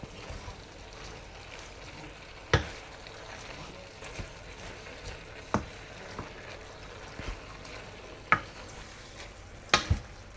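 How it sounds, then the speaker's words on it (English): San Choy Bao filling frying and being stirred in a pan, a low continuous sizzle broken by sharp utensil clacks against the pan at irregular intervals, close up. "Stir it."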